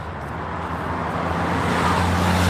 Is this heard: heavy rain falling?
no